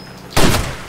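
A single loud, close gunshot burst in Far Cry 2, a sharp crack with a short decaying tail in an otherwise quiet moment.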